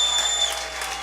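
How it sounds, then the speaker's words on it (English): A stadium crowd at a Canada versus USA rugby cup final applauds and cheers a try, a dense, steady wash of clapping heard at a distance, with a commentator's voice running over it. "the crowd appreciating that effort in response to that try by Hume"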